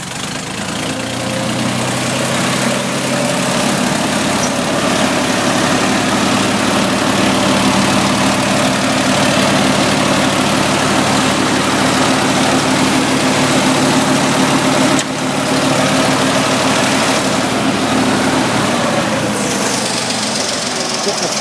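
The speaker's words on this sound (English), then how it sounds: "Got the 3-cylinder petrol motor in it. Really sweet engine." A Ford 2000 tractor's 3-cylinder petrol engine, fitted with a makeshift fabricated exhaust pipe, idles loud and close with a steady knocking chug throughout, while a voice may be heard beneath it.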